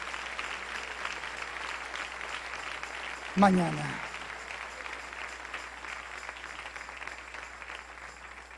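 A church congregation applauding, heard as a continuous wash of clapping under the preacher's loud speaking voice, with a brief burst of voice partway through.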